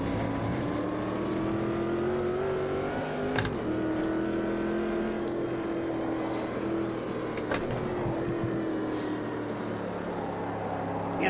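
Race car engine in the sim racing game Automobilista 2, droning steadily and loudly as the car is driven, with brief gear-change dips and small pitch swings as the revs rise and fall.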